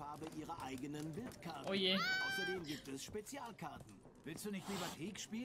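A cat in The Witcher 3 lets out a single drawn-out, rising-and-falling meow, mid-loud and close, while a voice talks over the game's ambience.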